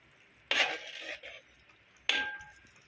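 A chicken biryani mixture is stirred in a pot, with two bursts of scraping, clinking spoon strokes against the metal separated by a quiet pause.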